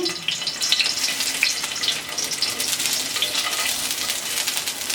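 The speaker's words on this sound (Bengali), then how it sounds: "আর এখানে হলো আমি দশ পিসের মতন চিকেন ভেজে নিচ্ছি" About ten pieces of pre-boiled chicken balls frying in a little oil, a dense, continuous crackling sizzle with bright spitting pops, close up and steady throughout, no voices.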